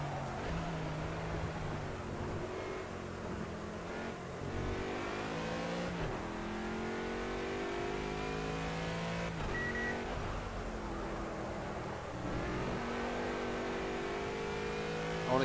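An Aston Martin GTE race car in Project Cars racing at Laguna Seca, its engine revving and climbing through repeated upshifts, each rise followed by a brief drop, sustained and loud for the whole stretch without talk.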